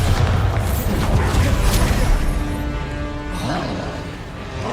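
Spell blasts in the PC game Hogwarts Legacy, a dense, loud wall of rumbling booms and crashes that rolls on without a break.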